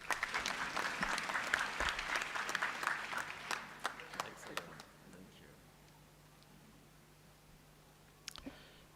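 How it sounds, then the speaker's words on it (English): Lively applause from a group, with dense clapping that thins out and fades after about five seconds, leaving a quiet room with a few stray claps. "Please clap for me."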